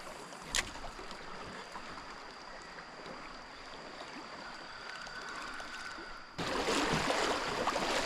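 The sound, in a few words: strong river current flowing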